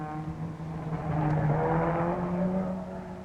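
Peter Proctor's Sunbeam Rapier rally car, number 75, roars past at speed on a tight, twisty route, its engine note swelling loud and bright before easing away.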